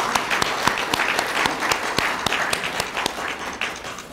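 Lecture audience at a forum breakfast seminar claps together, a dense run of many hands with distinct sharp slaps cutting through, steady and fairly close before easing slightly at the end.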